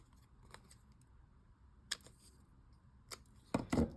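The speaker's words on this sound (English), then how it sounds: "instead of rounding them, I think I'll just trim the sharp corners off just a tiny bit" Scissors trim the corners off paper for a junk journal in a quiet room, with a few crisp snips spaced apart and a quick double cut near the end, all alone without talking.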